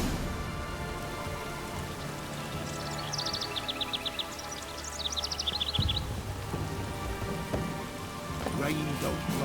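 Steady rain falls in The Witcher 3, a constant hiss of drops on surfaces. Birdlike chirps and low ambient tones sit over it, and there is no talk.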